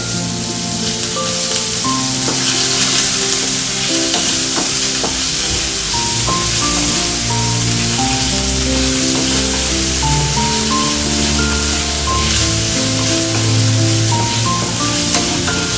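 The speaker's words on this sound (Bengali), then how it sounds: "তো ফ্রাই হতে হতে আমি এখানে একটু আদা রসুনের পেস্টটা দিয়ে দিই" Chicken pieces fry in a pan with ginger-garlic paste for a homemade pizza topping, giving a loud, steady sizzle with stirring and scraping throughout and no talking.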